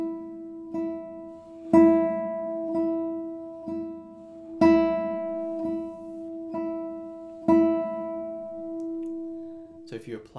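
A classical guitar's open string is plucked repeatedly in a steady triple rhythm, each downbeat struck clearly louder and the next two notes played lighter, close and alone with the notes ringing between strikes.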